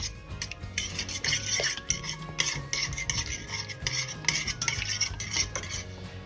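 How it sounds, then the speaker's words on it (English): Garlic and chilli paste being stirred into a homemade meatball sauce, with a steady scraping of a utensil against the bowl and busy clinks and rubs running continuously, close and moderately loud, no talking. "basically we're going to add the garlic and the chilli"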